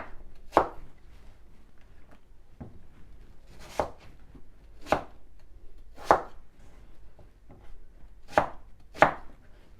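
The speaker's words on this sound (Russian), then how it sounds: "Теперь нарежем картошку, чтобы была по-деревенски, да, вот таким вот рифленым ножом." A crinkle-cut knife chopping potatoes on a board, with about eight sharp, separate cuts at irregular intervals in an otherwise quiet kitchen.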